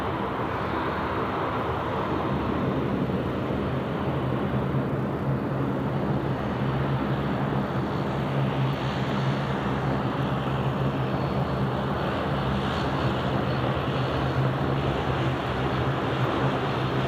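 A Korean airliner landing at Sydney Airport, a loud, broad, continuous roar of jet engines and rushing noise holding steady throughout.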